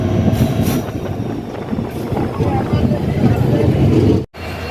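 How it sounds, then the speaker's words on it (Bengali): A train pulls out of the station with a loud, continuous rumble of carriages and wheels heard from on board, ending in a brief sharp cutout near the end. "এই স্টেশন ছেড়ে বেরিয়ে গেল আমাদের গাড়ি।"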